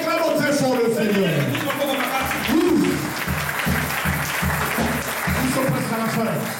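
Church congregation at Beulah Church in Seneffe applauding and shouting praise to the Lord, loud clapping and voices blending together over a rhythmic beat, with a preacher speaking.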